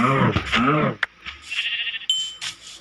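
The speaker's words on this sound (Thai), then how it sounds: "ฮ้ยแกะได้ยินแกะแล้วได้ยินเสียงแกะ" Sheep bleat outdoors in a couple of short, nasal calls. One is close and loud, and fainter ones follow, mixed with some bell-like ringing and a little background noise.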